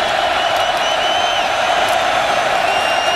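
Stadium crowd at a college football game in Husky Stadium, Washington, on third and ten, a steady, loud roar of cheering and whoops filling the space without a break.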